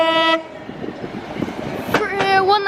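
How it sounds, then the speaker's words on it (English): Class 197 train 197 116 at Crewe station, pulling out toward Manchester Piccadilly, with a sustained two-tone horn blast, rhythmic clatter of wheels over rail joints, and a second horn toot near the end, close and loud. "197 116 makes its way to Manchester Piccadilly from Cardiff Central. As off it goes."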